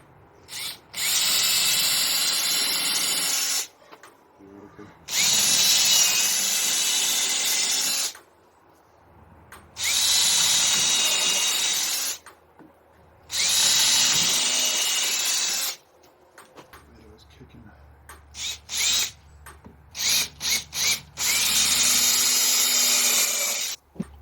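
A power drill pre-drills pallet wood for a rabbit hutch build, whirring loudly in four long bursts separated by pauses, then several short stuttering pulses and a final sustained run.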